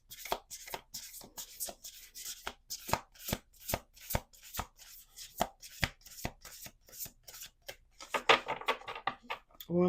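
A deck of oracle cards being shuffled by hand during a love reading, with a steady run of crisp riffling snaps and slaps, close and fairly loud, ending in a denser flurry of card noise.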